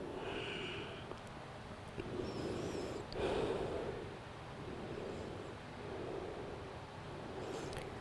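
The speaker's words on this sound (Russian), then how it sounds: "Дыхание восстанавливаем, дышим спокойно, естественно." After a yoga pose, a person breathes heavily and audibly through the nose and mouth. A few deep, slow inhales and exhales come close to the microphone with faint hissing between them, and no one speaks.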